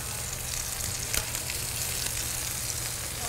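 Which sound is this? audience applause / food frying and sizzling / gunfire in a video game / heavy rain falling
food frying and sizzling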